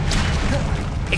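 A Confringo spell blast in Hogwarts Legacy on PS5 lands as a short, loud, dense burst of explosive noise filling the whole moment, with no separate onset or tail.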